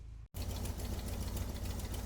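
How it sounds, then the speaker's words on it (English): A Chevy V8 engine in a classic FX4 taxi idles steadily after a brief cutout at the start, a continuous low mechanical rumble with a rapid, even knocking pulse. "What I'll do is start the engine, let it run up to temperature a bit, give it a bit of revs"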